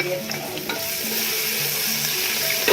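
Finely ground garlic, about ten cloves, fries with browned onion in a pan for a mutton dish, giving a steady, close sizzle with brief stirring scrapes and no voices.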